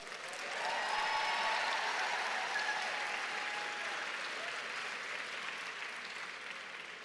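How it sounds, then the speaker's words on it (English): A conference audience at an annual meeting closing session claps in sustained applause that swells quickly and holds steady, dense and fairly distant, with no talking over it. "give the folks in Illinois and Chicago a great round of applause for the weather"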